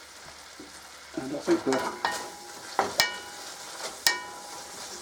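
Bacon frying in a pan for a pork and bean cassoulet, a steady close sizzle broken by several sharp scraping and tapping clatters of utensils, with a few brief spoken words partway through.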